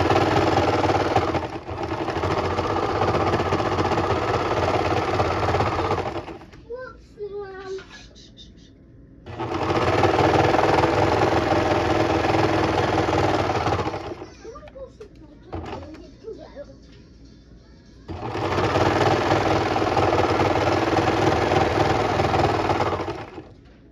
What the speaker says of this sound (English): I'm going to just start serging, and I'm just going to serge all around that side.